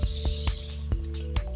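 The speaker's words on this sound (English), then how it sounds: "I'm gonna go in with my Morphe Continuous Spray, and I'm just gonna spray my face" Morphe Continuous setting spray misted over a face during a foundation makeup routine: a soft, close hiss at the start under a steady musical hum, with faint short bursts later.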